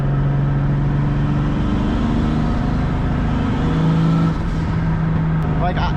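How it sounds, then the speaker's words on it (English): Turbocharged BMW E30 with an M50 engine and muffler delete, heard from inside the cabin as a steady, fairly subdued engine hum with shifting tones while cruising, a voice briefly audible near the end. "since the exhaust is just passing straight through with no muffler and no restriction, it sounds really quiet and really good in here"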